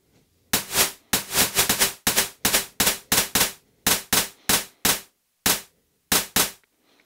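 Synthesized clap sounds from a Blip Box synth, a series of sharp bright bursts in irregular groups, some attacks fused into single dense hits, loud and close with no voices.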